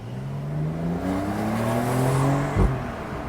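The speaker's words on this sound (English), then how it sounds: "And when it's matched with the turbocharged engine of the 992, pulls really strongly." A 2023 Porsche 911 992 Carrera Cabriolet with a turbocharged engine and PDK gearbox accelerates hard on a Hawaii road, a loud droning engine note that climbs steadily in pitch, with a brief thump as the gears shift near the end.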